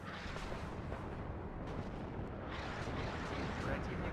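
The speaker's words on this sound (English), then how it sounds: "Here comes in the rocket artillery just to hit this area here." Rocket artillery strike in the Cold War strategy game WARNO, a dense continuous roar of rumbling blasts and bursts filling the whole stretch, loud and close.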